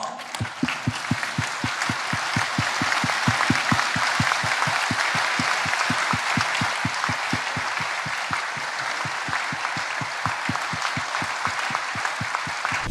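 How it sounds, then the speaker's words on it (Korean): A standing audience at a church general assembly applauds the moderator, with loud, steady, sustained clapping that holds evenly throughout. "우리 다 일어나셔서 박수로 답을 하도록 하겠습니다"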